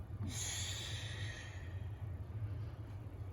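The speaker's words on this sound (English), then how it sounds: "take a big inhale through my nose and big exhale through my mouth" One big breath taken during a guided breathing exercise: a single breathy inhale through the nose, then a long, soft exhale through the mouth, close and quiet with no talking.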